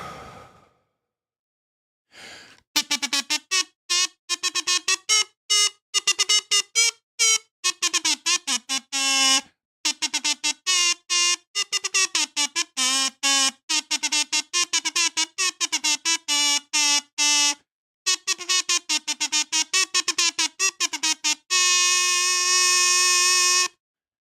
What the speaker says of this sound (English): But this kazoo salute is for you, Fookdoozle.